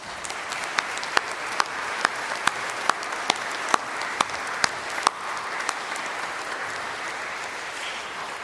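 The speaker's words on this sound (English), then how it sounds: "I think all our boys deserve a round of applause." Sparse clapping at a school speech day, with individual hand claps landing at a steady, slow rhythm before trailing off.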